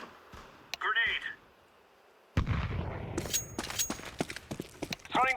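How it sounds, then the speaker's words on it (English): Counter-Strike 2 grenade going off with a sudden heavy blast followed by rattling gunfire and clatter, close and loud, after a voice calls out. "Grenade."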